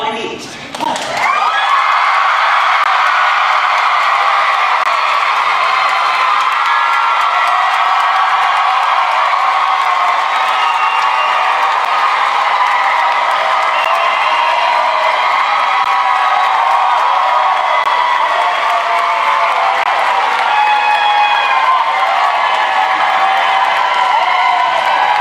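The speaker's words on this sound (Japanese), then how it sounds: "とんでもない歓声が上がっておりましたが" A large Broadway theatre audience at Harry Potter and the Cursed Child gives a standing ovation, cheering and applauding loudly and continuously, a dense roar of claps and shouts that holds steady throughout.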